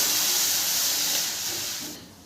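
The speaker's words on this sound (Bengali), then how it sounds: "এবার আমি ওই কড়াইতে দিয়ে দেবো জল" Water poured into a hot kadai of freshly fried spices bursts into a loud, steady steam hiss that holds for about two seconds, then quickly fades away.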